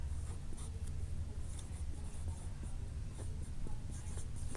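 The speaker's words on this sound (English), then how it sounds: "So I'm going to write my important information here." Pen or pencil writing notes by hand on paper, faint continuous scratching with small strokes and taps, close to the surface, over low background rumble.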